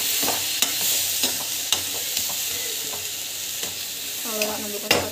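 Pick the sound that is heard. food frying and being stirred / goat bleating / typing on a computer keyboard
food frying and being stirred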